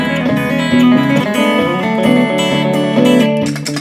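A guitar plays a banjo-style roll mixing pick and finger, with quick, bright, rolling notes ringing steadily and loudly up close.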